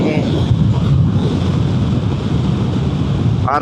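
Steady, loud wind rushes and buffets against the microphone while riding a Vespa GTS300 scooter, a continuous roar with no pauses.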